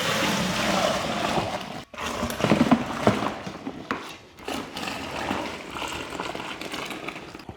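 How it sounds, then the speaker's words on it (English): Water pours into a beer brewing fermenter for a Coopers lager homebrew, a close, continuous splashing rush with some gurgling and no talk. "Okay, so now I'll just put the water in."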